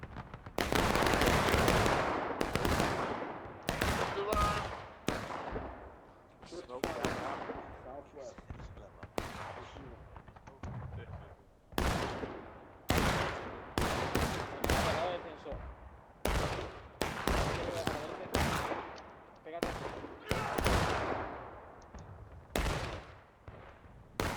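Musket volleys at a Civil War reenactment, a long run of loud, sharp independent shots spaced irregularly, each followed by a decaying echo, with people talking in between.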